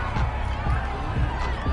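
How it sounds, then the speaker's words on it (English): A home crowd in a football video game cheers and murmurs after a referee's call on fourth down, a broad steady roar with low thumps, with speech faintly present. "This home crowd, they're happy with that call."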